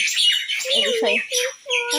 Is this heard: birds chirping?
yes